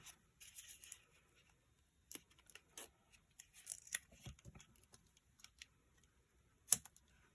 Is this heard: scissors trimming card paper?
yes